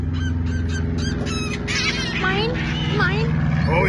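A flock of seagulls squabbles over tossed French fries, loud overlapping squawks and honking cries crowding together close by with continuous noisy background.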